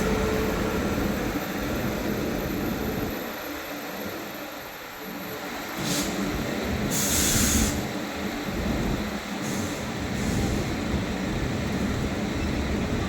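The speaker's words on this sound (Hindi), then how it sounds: "ट्रेन आ गई भाई ओवरटेक करने। दिल्ली गोंडा एक्सप्रेस।" Delhi Gonda Express overtaking a stopped special train near Ghaziabad, a loud, sustained rumbling roar of rolling coaches with bursts of high hiss and rattle, steady throughout without voices.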